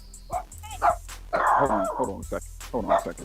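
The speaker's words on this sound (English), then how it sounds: "that was my neighbor's dog." A neighbour's dog barks and yips a few times in the background, fairly close, while someone talks over it on a sports podcast.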